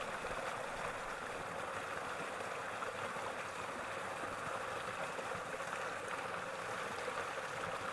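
Death Canyon Creek, a mountain stream in the Sierra Nevada, flowing as a steady, continuous broadband rush of water with no talk over it.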